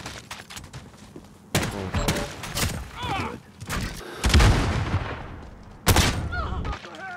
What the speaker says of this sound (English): Friendly precision airstrike on the wing.